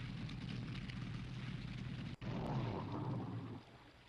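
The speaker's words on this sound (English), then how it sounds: "That doesn't sound like a healthy boat." A video game boat engine drones steadily with a rough, sputtering low rumble, briefly cutting out for an instant before roaring back, then easing off toward the end.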